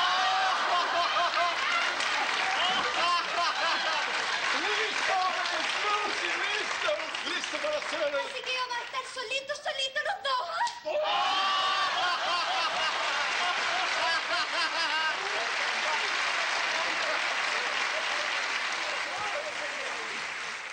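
Studio audience applause on a live television variety show, long dense clapping that briefly breaks into scattered laughter and voices midway before swelling back into sustained applause.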